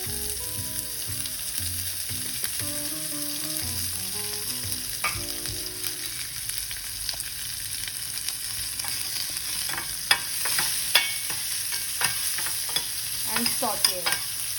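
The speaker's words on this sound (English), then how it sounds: "Next up, I'm adding some chopped onion." Chopped onion sautéing with urad dal in a pan, a steady sizzle under repeated scraping stirs, with sharper clinks of the spoon against the pan in the last few seconds.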